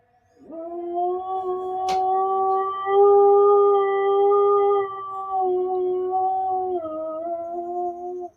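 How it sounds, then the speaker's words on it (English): A dog's long, steady howl, loud and close, held with slight pitch wavers for several seconds, with a brief click near the start; howling along to a fire truck siren. "He's howling."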